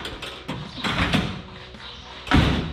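Car door lock mechanisms clunk and click on a vehicle being restored, several sharp mechanical knocks with a louder thump near the end, close by with no one talking.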